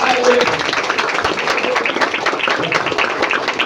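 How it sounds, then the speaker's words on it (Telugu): Seminar audience applauding at a business-building meeting: a dense, steady wash of many hands clapping at once, fairly loud and sustained throughout with no pause. "సో గట్టిగా క్లాప్స్ అవ్వాలి నా ప్యారీ లవ్ లైన్"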